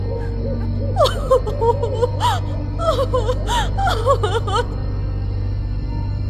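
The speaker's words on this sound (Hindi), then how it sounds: "उसे किसी के रोने की आवाज सुनाई दी, जैसे तो कोई बहुत ही दुख में गहरा विलाप कर रहा हो।" A woman's mournful wailing and sobbing in a horror story, rising and falling in several wavering cries over a steady low hum, fairly close and alone without speech.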